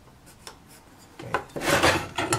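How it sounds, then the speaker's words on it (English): A pencil or marker drawn across a wooden board while building a handstand trainer, giving a few short close scratchy strokes, faint at first and then louder in quick rasping passes. "Take this, draw a line."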